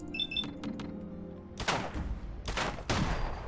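Gunfire from a weapon in the video game Fallout 4, with a few sharp, loud shots in quick succession after a quieter stretch of game ambience.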